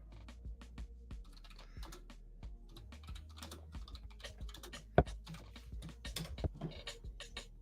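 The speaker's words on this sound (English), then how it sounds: "I'm going to type in here for him." Keys clatter on a computer keyboard in quick, uneven bursts of close clicks and taps, with one sharper keystroke midway and no voices.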